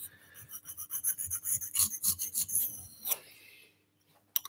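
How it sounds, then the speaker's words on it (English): Rapid rhythmic rasping strokes of a file sharpening a garden tool, close and fairly quiet, a steady run of strokes that stops with a brief scrape and a single tap at the end. "I'm going to sharpen some garden gear"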